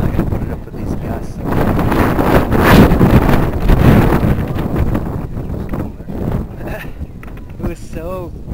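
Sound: gusty wind at an RC F-15 flying field

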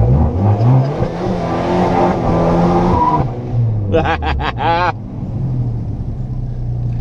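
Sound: car engine revving

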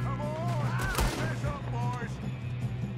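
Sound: gunfire in Red Dead Redemption 2, a video game

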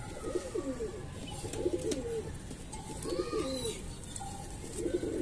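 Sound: pigeons cooing

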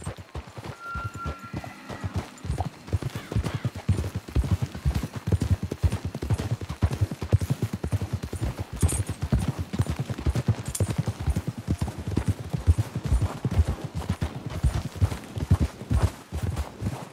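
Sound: horses galloping, video game

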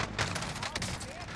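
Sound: shotgun fire in Call of Duty Warzone video game

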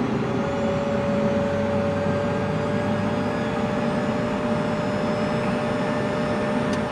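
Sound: Citation CJ3+ jet engine running, right engine only

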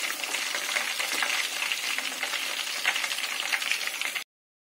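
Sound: chicken kabab pieces deep-frying in oil

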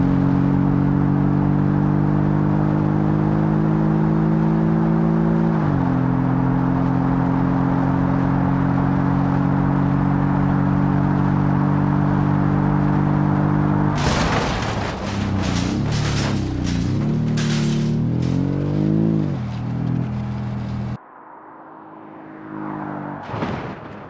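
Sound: BMW X6M crashing through gates in video game BeamNG Drive

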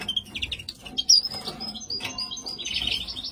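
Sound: caged birds chirping, goldfinches and hybrids

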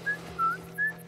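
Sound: character whistling in video game The Last of Us Part 1

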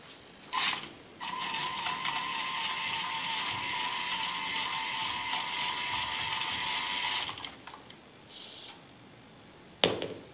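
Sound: TETRIX PRIZM MiniMAX robot motors and gears running

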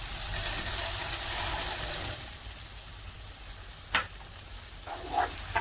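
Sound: bulgur being roasted in pan with onions and tomato paste

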